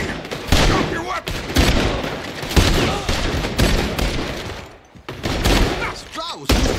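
Rapid bursts of gunfire crackle through a Red Dead Redemption 2 shootout, loud and dense with overlapping shots, with characters shouting over the fusillade and brief pauses between volleys.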